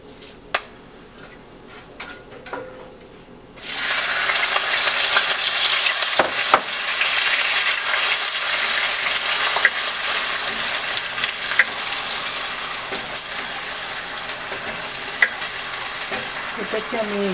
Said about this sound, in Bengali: এটাকে একটু নেড়ে চেড়ে আমি অনিয়ন পেস্টটা দিয়ে দিব।